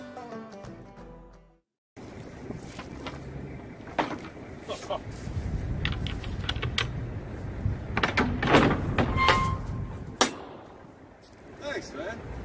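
Steel shipping container doors being worked open and shut, with metallic clanks, latch bangs and scraping at irregular intervals outdoors amid wind noise, and people talking between the knocks.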